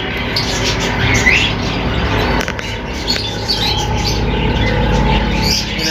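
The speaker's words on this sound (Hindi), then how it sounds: "ग्रीन रिंगनेक का ब्रीडर पेयर" Green ringneck parakeets and other caged birds at a Sunday bird market in Chichawatni, a dense, loud chorus of overlapping chirps, squawks and chatter with a busy rustling background.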